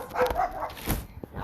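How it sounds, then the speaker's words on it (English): Neighborhood dogs bark in a city yard, several sharp irregular barks and yips of varying loudness, some close and some farther off, with no talk over them. "I think all of the neighborhood dogs will be joining us today."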